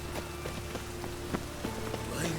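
Steady rainfall in The Witcher 3 video game, a dense even patter with scattered sharper drops hitting surfaces, moderately loud and continuous, no speech over it.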